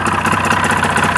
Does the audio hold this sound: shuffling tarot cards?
no